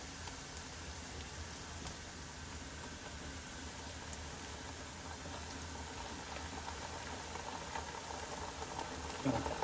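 Onions with ginger-garlic paste fry in a pan for a prawn and egg biryani, giving a steady, even sizzling hiss that holds at a moderate level throughout, with no voices.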